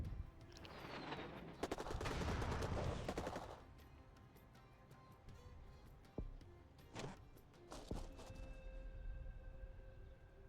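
Airstrikes in the video game Rebel Inc sound as a faint burst of rapid gunfire-like rattling and booming, followed by scattered sharp hits and interface tones over a low rumble.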